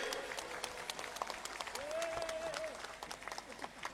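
Crowd applause at a National Santri Day ceremony, a fairly faint, scattered clapping heard from a distance under a single brief whistle-like tone.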